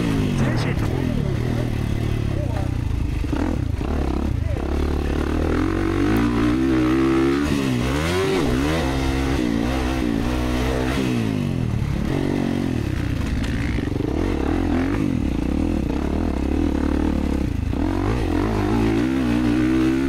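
A 2024 Kawasaki KX450 motocross bike racing, its engine roaring and revving continuously up close through shifts and throttle changes for the whole stretch, with clattering mixed in.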